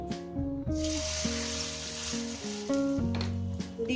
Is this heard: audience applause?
no